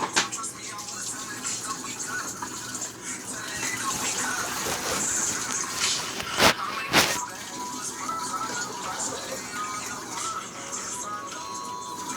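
Steady running water pours and splashes into a cooking pot for boiling tortellini, filling for several seconds with a couple of sharper splashes partway through.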